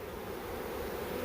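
A honeybee swarm buzzes steadily in Uxbridge, Massachusetts, a dense, even drone that holds at constant strength for the whole moment with no voices over it.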